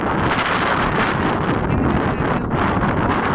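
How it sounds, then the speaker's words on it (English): Steady wind buffets the microphone with a loud, continuous rumbling roar and no clear voices. "It's quite windy."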